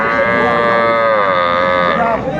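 A cow at the Aftabganj cattle market gives one loud, sustained moo that fills the moment close by, tapering off at the end.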